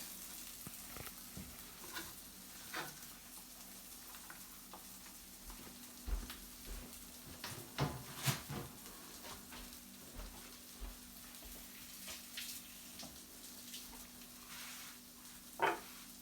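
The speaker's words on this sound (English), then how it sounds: "put that on simmer while we look at what's next." A pot left to simmer on the stove while making corn cakes gives a faint, steady sizzle and bubbling with scattered soft ticks and clicks, no voices.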